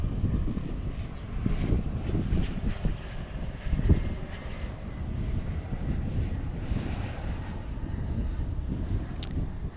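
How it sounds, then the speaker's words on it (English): A CRJ 700 regional jet comes in at DFW airport, a steady low rumbling engine roar with wind buffeting the microphone, continuous and fairly distant throughout. "Got a CRJ 700 inbound, so we'll turn our attention to that."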